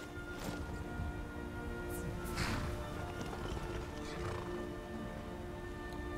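A horse in the video game Skyrim gives a couple of sharp neighs and whinnies over a scatter of hoof clops, close by against a constant outdoor ambience.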